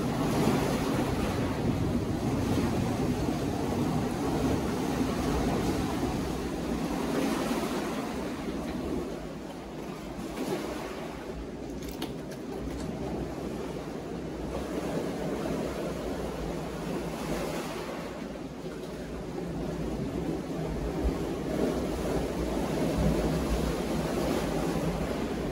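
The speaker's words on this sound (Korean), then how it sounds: "물이, 오, 굉장히 이 안까지 들이치네." Sea waves surge and wash into the sea cave at Jeonchon Yonggul on the Gampo coast, a continuous broad rumble of surf with gusty wind noise, loud and close throughout with no talk.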